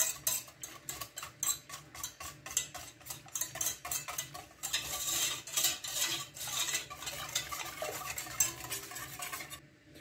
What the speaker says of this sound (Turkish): bunların hepsini şöyle güzelce karıştıralım